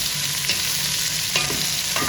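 Onions frying in a pan for chicken dum biryani, a close steady sizzle broken by a few stirring scrapes, with no voice.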